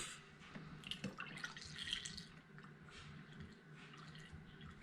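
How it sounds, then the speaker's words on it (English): Evaporated milk pours and trickles quietly through a funnel with soft gurgling and splashing, faint and close. "Pour in my evaporated milk."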